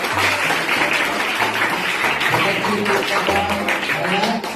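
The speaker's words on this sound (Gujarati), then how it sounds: "જોરદાર તાળીઓ માટે" Dense, loud applause from a school quiz audience fills the whole stretch steadily, with voices murmuring underneath.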